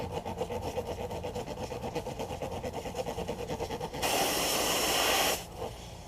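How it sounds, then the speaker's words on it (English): A tool is worked back and forth to ream and clean a puncture hole in a tire, giving quick rhythmic rasping strokes up close, followed by a sharp burst of hissing that stops suddenly. "You're going to want to clean the hole out with some type of tool like this."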